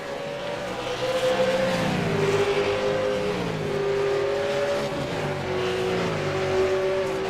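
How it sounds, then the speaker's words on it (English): V8 Supercar race cars braking into the hairpin at Sonoma, a loud continuous engine drone with pitch dropping and rising in stepped downshifts and blips, no talk. "So Tobias gets very close under braking into the hairpin."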